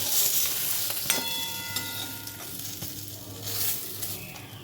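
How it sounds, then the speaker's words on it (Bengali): Eggplant pieces frying in oil for shukto: a loud, close, bright sizzle with a metallic scrape and ring of a utensil against the pan near the start, then the frying hiss continues alone. "বেগুনগুলো ভালো করে ভেজে নিয়েছি, এবার তুলে দেবো।"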